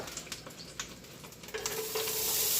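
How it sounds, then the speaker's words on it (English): Onions and garlic sautéing in a pan, with spoon stirs and scrapes at first, then a steadily building sizzle as the food hits the hot surface, close and loud. "saute our onions and our garlic"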